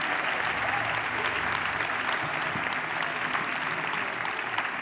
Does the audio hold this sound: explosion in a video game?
no